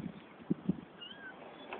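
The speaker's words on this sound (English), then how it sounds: "It appears I have 5 kittens." Kittens in a litter of five, hidden near a propane bottle outside, give two short faint mews over quiet background hiss.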